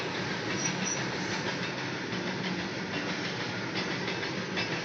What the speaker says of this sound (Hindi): आ गया हमार ट्रेन कोयला